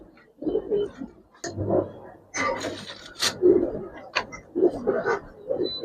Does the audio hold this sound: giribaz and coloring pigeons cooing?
yes